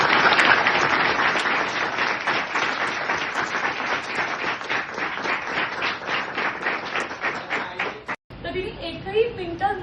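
Audience applause at a public gathering honouring a team: dense, steady clapping from many hands for about eight seconds, then an abrupt cut to a different, noisier stretch.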